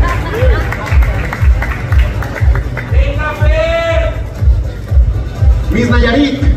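Steady rhythmic clapping from a crowd at a beauty pageant candidate presentation, with a pulsing beat and background voices and music over it.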